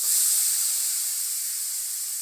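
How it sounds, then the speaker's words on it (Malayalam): Chopped papaya hits a hot pan and sizzles loudly as a steady, bright hiss. It starts strongest and eases slightly as it continues, with no talking. "ഈ അരിഞ്ഞു വെച്ചിട്ടുള്ള അരിഞ്ഞു വെച്ചിട്ടുള്ള പപ്പായ ഇല്ലേ, ഇതിനകത്തോട്ട് ഇട്ട് കൊടുക്കാം"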